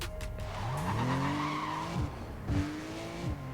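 A car driven in the racing game Need for Speed World, its engine revving up through rising gear pitches with sharp shifts and dips, tires squealing and skidding close and loud.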